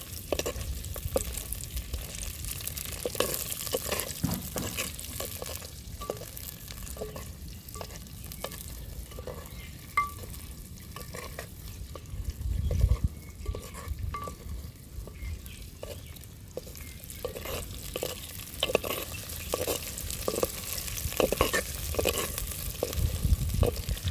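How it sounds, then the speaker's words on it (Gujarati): Green chilies fry in about half a ladle of hot oil, hissing and sizzling steadily throughout, with repeated scrapes and clacks of stirring close by and no voices. "તો હવે આપણે મરચાં તળી લઈએ"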